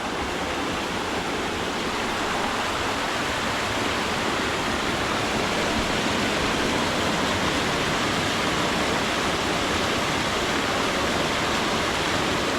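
Water rushes loudly and steadily through a traditional eco washing tub beside the Martin Brod waterfalls in Bosnia and Herzegovina, a dense, close roar with no voices.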